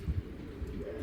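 Large, heavy-bodied racing pigeons, including a big male, give a low, brief coo near the start, close and soft, followed by a muffled murmur of the loft.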